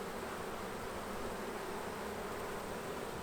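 Honeybees swarming over an opened hive during a frame inspection, a dense continuous buzz held at an even level throughout, with no voices.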